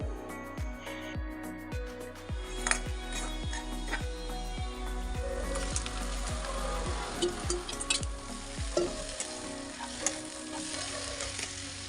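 Chopped onions sauté in a pan, a soft steady sizzle broken by a regular run of clicking stirring strokes, close and fairly quiet, with no voices.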